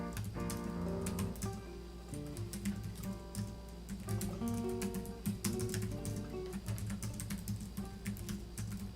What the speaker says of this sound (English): He's typing so furiously.